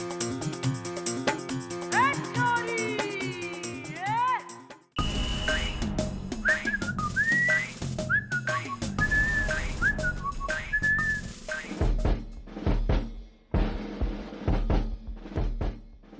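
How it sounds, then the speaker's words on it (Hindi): Someone whistles a sliding, playful tune, loud and near, first over a musical backing and then in short warbling phrases against busier music and thumps, without speech. "और ये जो सीटी दोबारा मैंने सुन ली ना"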